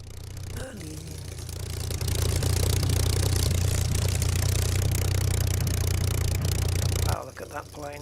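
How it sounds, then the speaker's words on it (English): A Merlin piston aircraft engine in Microsoft Flight Simulator drones with a steady, loud low hum that swells after the first couple of seconds and cuts back near the end; a voice speaks briefly early and again at the close. "Listen to that engine. Merlin engine."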